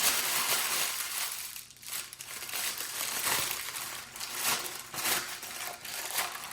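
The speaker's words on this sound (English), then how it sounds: "I'm just gonna be noisy for a second and crumple it up" Continuous crinkling and crumpling of stiff parchment paper, loud and close, with irregular bursts of crackle and no talking.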